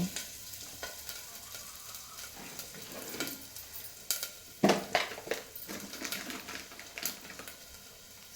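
Cashews sizzling in hot oil in a pan while being stirred for a vegetable kurma, a busy crackling fry with scraping stir strokes, close and steady, with no talking.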